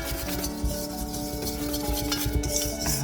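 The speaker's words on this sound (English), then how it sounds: "we're going to give it a whisk again" Dry ingredients for a red velvet cream cheese pound cake being whisked in a bowl, a close, continuous scratchy rubbing with quick irregular strokes and faint clicks of the whisk, with no talking.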